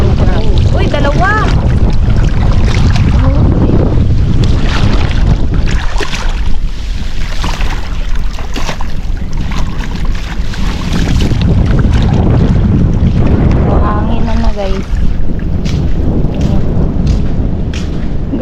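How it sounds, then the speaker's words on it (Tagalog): Rough sea churning around a fishing boat hauling nets for crabs, a steady loud wash of water and wind buffeting the microphone throughout, with someone talking over it. "grabe ang gulong ng alon"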